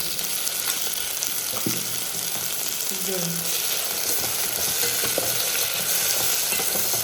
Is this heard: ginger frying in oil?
yes